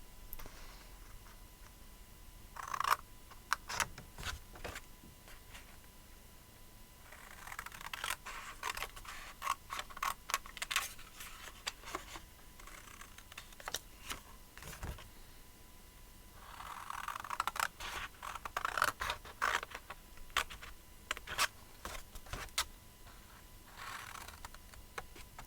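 Scissors snip through paper while a small gift box is cut out, giving repeated short crisp cuts in clustered bursts with brief pauses, moderately close and fairly quiet, with no talking.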